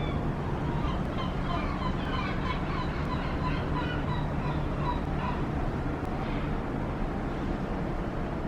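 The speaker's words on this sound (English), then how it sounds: "I feel like we're about to be invaded by a bunch of birds." A flock of birds at an outdoor archaeological site in Sardinia honks and calls repeatedly, a busy overlapping chorus against loud steady wind noise.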